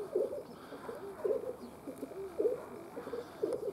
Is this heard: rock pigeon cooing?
yes